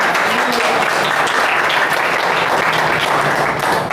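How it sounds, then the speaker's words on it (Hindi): A church congregation claps during a Hindi sermon, a loud, dense burst of applause that holds steady throughout without speech. "एक ताली बजा दी जब मज़ा आ रहा है तो।"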